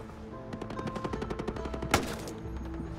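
Gunfire in the Ghost Recon video game: a quick run of sharp shots is followed by one louder, heavier blast, then a steady in-game hum continues.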